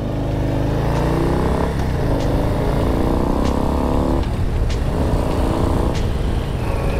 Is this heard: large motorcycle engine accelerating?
yes